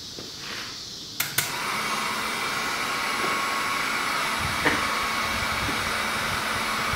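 A heat gun blasts a steady broadband airflow onto a metal grill during heat shield material testing, a continuous close hiss with a couple of sharp clicks near the start and a faint tap later, no talking.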